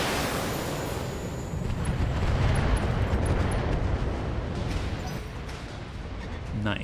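Mortar strikes in the BattleTech video game land as a sustained, heavy, rumbling roar of explosions and crumbling debris that swells and fades, with a voice faintly under it.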